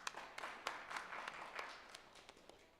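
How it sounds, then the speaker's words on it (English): An audience at the Crypto306 conference session applauds, a faint, distant patter of many hands with a few sharper individual claps, steady for a few seconds and thinning toward the end. "please put your hands together in a huge round of applause"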